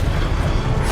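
The Expelliarmus spell cast in the video game Hogwarts Legacy, a single loud, dense rumbling blast that fills the whole second without a break.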